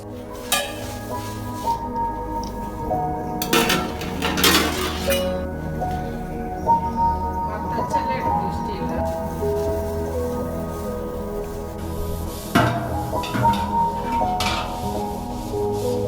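Cooking vessels being washed and cleaned, with clinking metal and glass knocks scattered among soft rubbing and splashing, close and moderate in level.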